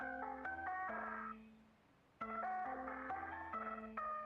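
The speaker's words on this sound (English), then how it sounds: "That is a very distorted, what sounds like a ringtone." Distorted phone ringtone in a horror-style video game, a bright stepped melody of tones that plays, pauses briefly, then repeats, faint and alone.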